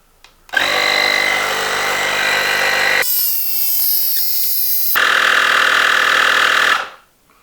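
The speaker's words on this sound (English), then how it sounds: "But as you can see, no problem with airing up a tire." A battery-powered CJOVSE cordless tire inflator runs steadily while pumping up a bicycle tire, a loud, continuous motorized buzz with a shift in pitch midway, then stopping abruptly near the end; no talking.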